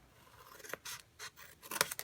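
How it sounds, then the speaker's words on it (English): Small scissors trimming a paper treat box, giving several short crisp snips in an irregular rhythm, close and fairly quiet with no talk. "now we're going to do a little bit of trimming, and I'm going to get out my smaller scissors"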